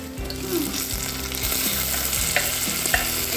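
Tomato, onion and garlic frying in a pan for hotel-style South Indian sambar, a steady close sizzle with stirring scrapes throughout and a low hum underneath, no talking.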